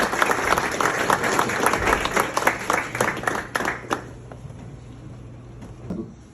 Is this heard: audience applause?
yes